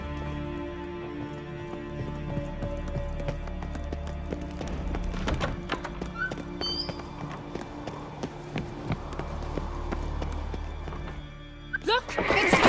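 Horse hooves galloping in The Witcher 3 video game, a steady clip-clop of hoofbeats under game music and ambience, with a louder burst near the end.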